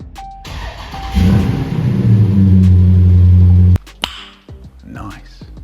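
A Dodge Challenger Scat Pack engine cranks with a whine, then fires into a loud, deep idle rumble that holds for a few seconds before cutting off, followed by faint clicks and brief voices.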